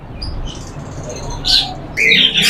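Green ring-necked parakeets in a bird shop give sharp, high squawks and chirps in short bursts, loud and close, over a busy room murmur.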